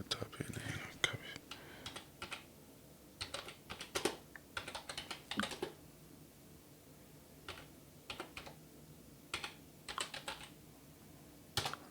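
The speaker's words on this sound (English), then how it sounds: "I think I might have to type it in here" Bursts of clicky computer-keyboard typing come in quick irregular runs separated by pauses, close and fairly quiet, with faint whispery voice between the keystrokes.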